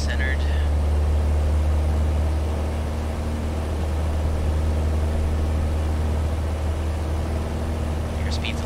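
A PA28 Cherokee's engine runs at full power in Flight Simulator X, a steady loud low drone with constant propeller hum that holds evenly throughout with no breaks.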